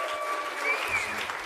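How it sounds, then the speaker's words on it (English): Brief, fairly faint burst of steady clapping from the audience at an awards ceremony, a short even wash of applause. "a big round of applause for all of our award winners in that section"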